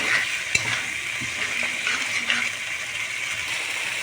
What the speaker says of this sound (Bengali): হালকা একটু জল অ্যাড করে দেবো যাতে মশলাটা আরও সুন্দরভাবে কষানো হয়ে যায়